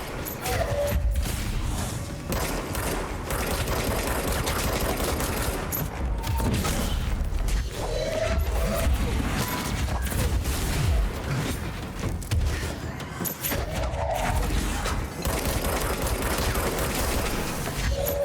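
Sustained dense gunfire in the shooter Control, continuous loud bursts and clatter filling the whole stretch with little pause, mixed with game effects.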